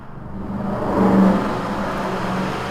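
Loud road traffic outside a home near a coal mining operation, a steady engine roar that swells as a car passes close by, with no talking.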